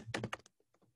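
A few quick, close keystrokes on a computer keyboard, a short burst of taps followed by a couple of lighter ones, faint and alone.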